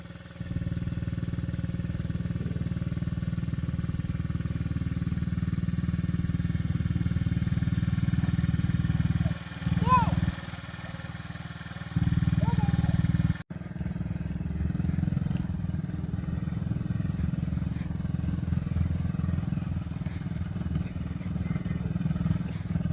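Small Tao Boulder kids' motorbike engine running steadily and loud throughout, with a brief dip and a pause around the middle before it picks back up and carries on.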